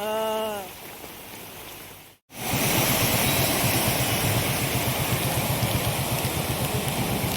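Heavy rain pours in Karimnagar as a dense, steady hiss that fills the scene after a short break, loud and continuous with no talk over it.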